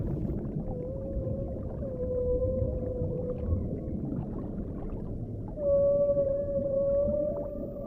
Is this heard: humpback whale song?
yes